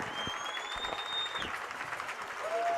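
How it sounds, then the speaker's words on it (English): A crowd applauds at a Barnesville high school football game, a steady wash of clapping from the stands with a whistle-like tone drifting over it. "And a nice hand from the Barnesville crowd here, appreciating the effort"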